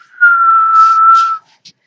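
Someone whistles one clear, steady note for about a second, imitating a guard blowing a whistle, followed by a short faint chirp.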